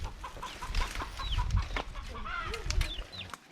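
Village rooster and hens clucking and squawking as they are chased and caught, with agitated calls, scuffling and brief wing flaps close by, loud and continuous.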